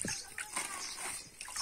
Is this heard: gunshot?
no